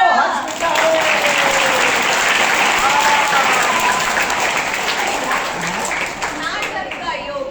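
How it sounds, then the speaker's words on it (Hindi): An audience at a stage play applauds in loud, sustained clapping that fills the whole stretch and fades slightly toward the end. "तो फिर ताली बजाओ, हर्ष मिलता है"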